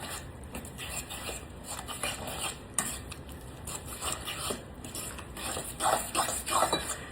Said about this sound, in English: Take and stir that.